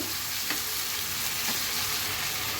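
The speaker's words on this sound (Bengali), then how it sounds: "টমেটোটা ভালো মতো করে কষিয়ে নেব" Tomato frying down in a pan for a Bengali potato dal: an even, continuous sizzle with soft stirring scrapes, close and steady, no voices.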